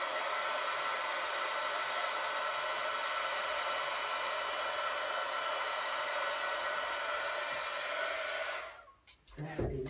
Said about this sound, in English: to help it along you can use your heating tool